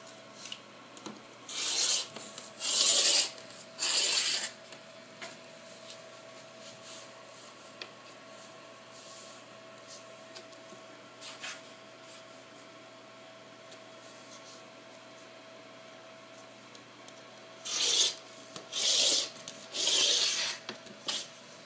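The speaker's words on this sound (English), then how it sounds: "So I'm going to go ahead and cut those, and cut our square, our 12-inch square" Quilt fabric pieces cut for a 12-inch square, heard as a few close, soft rasping cutting strokes in short clusters at the start and again near the end, with quiet pauses between and no talk.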